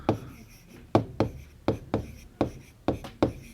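Hand writing on a page during a Hindi class exercise, about eight distinct scratchy pen or chalk strokes in an uneven rhythm, close and clear, with no talk over them.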